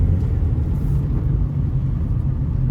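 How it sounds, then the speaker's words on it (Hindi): A 200 HP Honda Accord spins its wheels with stability control (VSA) switched off, giving a steady, loud low engine roar and rumble throughout with no talking. "आप लोग देख ही सकते हो गाड़ी किस तरह व्हील स्पिन में जा रही है।"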